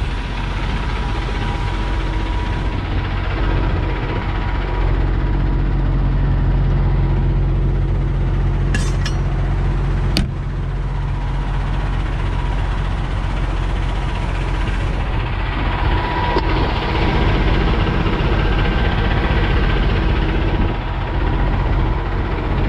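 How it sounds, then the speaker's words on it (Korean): A diesel truck engine idles loud and close as its air compressor refills the air system, a steady low rumbling drone with faint rhythmic knocking and a brief hiss partway through. "이 소리는 에어 컴프레셔에서 에어 채우는 소리입니다."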